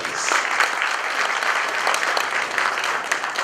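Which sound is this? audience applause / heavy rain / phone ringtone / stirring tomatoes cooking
audience applause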